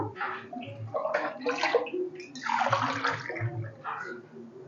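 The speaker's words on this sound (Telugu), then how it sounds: "ఒక లోటాడికి 2 లోటాల వరకు వాటర్ యాడ్ చేసుకోవాలి" Water is poured from a vessel onto rice frying in a pot for vegetable pulao, giving several close, splashy gushes that surge and ebb without any voices.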